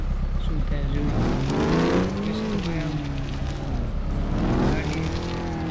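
An engine starts and a vehicle revs while climbing over rocks in the offroad game Offroad Outlaws, with the pitch rising and falling in sweeping waves as someone talks over it.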